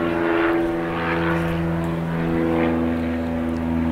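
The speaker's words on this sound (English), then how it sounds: "Airplane going above us." Overhead, a propeller airplane drones loudly and steadily, its engine tones holding constant as it passes, with no one speaking.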